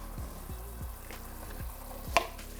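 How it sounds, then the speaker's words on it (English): Chopped onion hits a pan of sizzling shredded chicken, a close frying hiss with a few soft scrapes, a sharp clatter near the end, and low rhythmic thumps underneath, with no talking. "I'm going to go ahead and add the onion"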